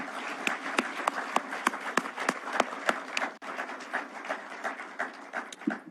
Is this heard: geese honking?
no